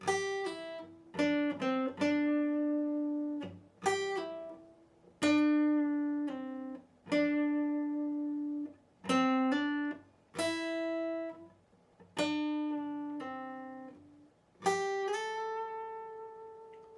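A slow series of sustained electric guitar notes and double-stops, each ringing out and decaying before the next, played alone at a relaxed pace.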